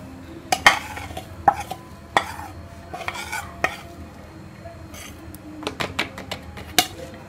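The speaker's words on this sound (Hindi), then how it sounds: "बेसन को घोल लेंगे, इसके अंदर ये सारे मसाले हम डाल देंगे।" A spoon clinks and scrapes against a bowl while gram flour batter with spices is stirred, giving irregular, fairly close taps and soft swishes over a quiet background.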